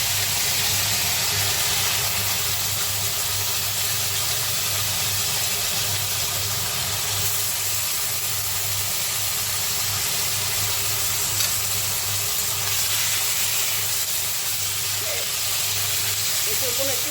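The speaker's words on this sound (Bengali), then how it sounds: "এঁচোড়গুলো একটু ভাজবো।" Raw jackfruit pieces frying in hot oil for a jackfruit and prawn curry, a loud, continuous hiss and sizzle held steady throughout at close range.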